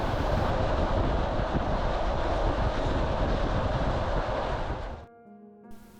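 An electric commuter train on the route near the Chernobyl nuclear plant rumbles steadily along the rails with a loud broadband roar and wind noise, fading sharply near the end as a few tones ring out.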